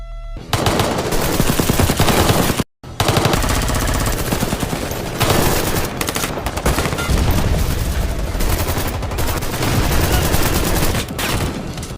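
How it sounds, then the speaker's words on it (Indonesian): A newly found weapon sprays automatic gunfire in a film's shootout between two police factions: long, loud, dense machine-gun bursts with one brief pause near the start, then continuous heavy firing to the end. "Romero menyemprotkan senjata temuan barunya"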